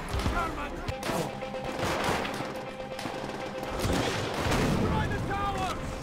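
Dense, continuous gunfire and explosions from a Call of Duty: World at War campaign battle, with overlapping shots rattling steadily throughout.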